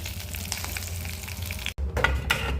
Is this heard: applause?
no